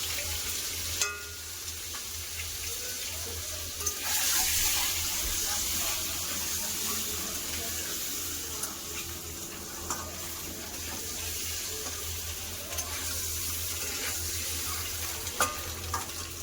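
Boiled eggs with turmeric and chilli powder fry in a pan, a steady close sizzle with occasional clinks and stirring scrapes throughout.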